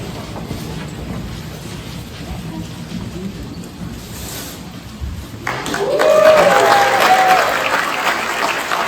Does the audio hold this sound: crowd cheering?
yes